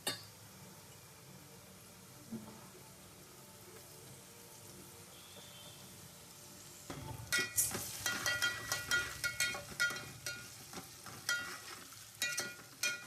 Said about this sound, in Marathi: आता आपण त्यात आलं लसूण टाकूया,